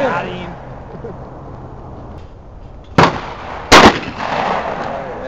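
Two loud, sharp gunshot cracks about a second apart ring out at an outdoor birthday shooting event, with people talking before and after the shots.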